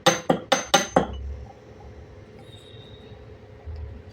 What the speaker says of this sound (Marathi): आता आलं चांगलं कुटून घ्यायचं आहे